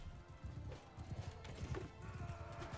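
Horses gallop in the Mount & Blade 2 Bannerlord video game, a dense run of rapid clip-clopping hoofbeats at moderate distance, with a brief whinny partway through.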